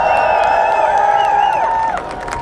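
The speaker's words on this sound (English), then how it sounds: "Big round of applause." A rally crowd cheers and whoops loudly and steadily, with voices calling out over the noise. Applause is folded into the roar before it eases slightly near the end.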